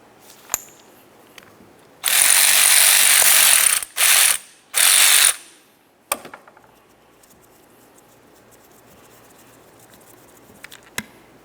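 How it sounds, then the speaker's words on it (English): A ratchet fitted with a 10 mm socket removes the mounting hardware of an AC compressor on a 2006-2011 Honda Civic. It gives three quick bursts of rapid clicking, then a few isolated metallic taps and knocks against a quiet background. "use a 10 millimeter to remove each piece of the mounting hardware"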